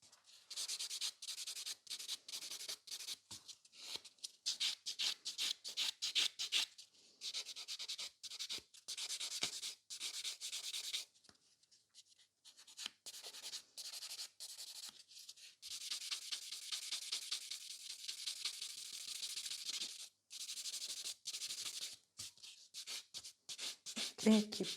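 Fiber gel nails being buffed to a matte finish with a nail file, a steady run of quick, close scratchy rubbing strokes with brief pauses, plus a short faint voice near the end.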